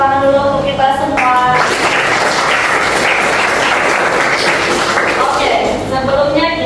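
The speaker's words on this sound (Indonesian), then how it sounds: "kita tepuk tangan dulu untuk kita semua" Applause from pupils in an Indonesian Islamic ethics classroom, a dense continuous patter of many hands clapping for several seconds, close and loud, with a teacher's voice before and after.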